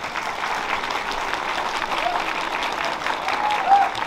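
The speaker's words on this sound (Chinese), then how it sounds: "那请大家给大师一点掌声吧" Steady, dense applause from an audience at a fan meet-and-greet welcoming fantasy author Andrzej Sapkowski, creator of The Witcher series; close and even, holding for several seconds with a brief swell near the end.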